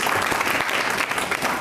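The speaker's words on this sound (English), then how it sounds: "can we get a round of applause for Wayne Rosenfeld and the East Millwood Jewish Center for hosting our meeting?" An audience claps at a community board meeting held in a Jewish center, the applause steady and dense throughout, a full room of hands filling the space without letup.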